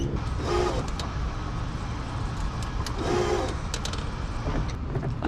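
Tracked stair-climbing power wheelchair descending stairs, giving a steady close motor whir with faint clicks and rumbles throughout.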